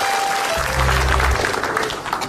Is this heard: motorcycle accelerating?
no